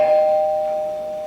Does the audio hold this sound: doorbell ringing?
yes